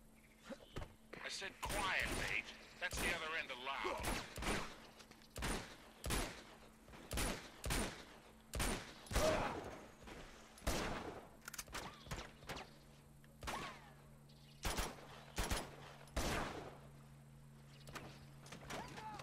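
Gunfire in the Uncharted 2 video game, sharp broadband shots in bursts and single cracks spread across the scene, fairly near, over a low steady game hum with no talk.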